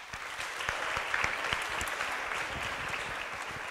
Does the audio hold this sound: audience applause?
yes